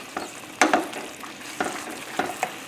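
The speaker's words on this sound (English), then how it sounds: "Just put the shrimps in. Raise the flame. Separate all the shrimps." Halved shrimp tossed in a hot pan for shrimp chow mein over a raised flame, a steady close sizzle broken by several sharp scraping stir strokes and clatters spread across the moment, with no talking.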